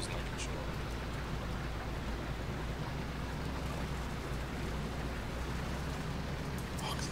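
Rain falls steadily at night in the video game Arma 2 with the ACE mod, a dense, even patter that stays constant throughout with no break.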